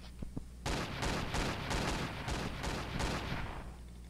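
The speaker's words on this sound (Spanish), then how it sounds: "Voy a dispararlo otra vez, a ver." Rapid bursts of gunfire in a Roblox crime game, a loud run of about eight evenly spaced shots that follow a few faint clicks and fill the rest of the moment with no one talking.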